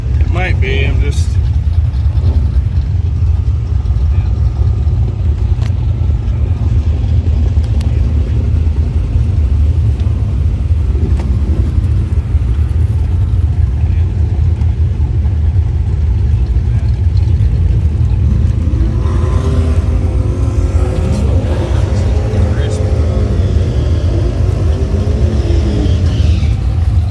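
A misfiring race car engine idles in the pits with a loud, uneven low rumble, steady throughout with irregular stumbles, as people talk nearby.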